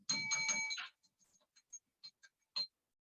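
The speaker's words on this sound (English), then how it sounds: "instead of my doorbell, I'm going to use my dinger" A small dinger bell rung in place of a doorbell: a bright ringing tone held for under a second, followed by several faint, scattered clicks and one last short ding.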